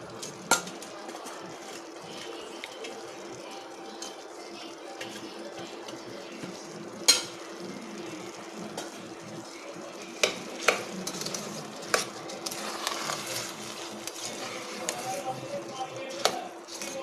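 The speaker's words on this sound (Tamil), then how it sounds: "ஒரு 2-3 நிமிஷம் இப்படி கிளறி விட்டுடலாம்." Quiet kitchen sizzling with a spoon scraping and stirring through peanut rice in a hot pan, occasional sharp metallic clinks against the rim.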